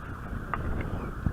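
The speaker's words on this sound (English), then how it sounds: "the wind's blowing" Wind blows outdoors on a dry, hot day in a Pennsylvania garden, a low steady rumble buffeting the microphone with a few faint thumps.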